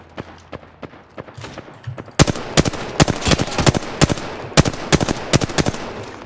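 Apex Legends video game firefight, starting with faint distant shots, then loud, sharp bursts of close gunfire and single heavy shots in an uneven rhythm.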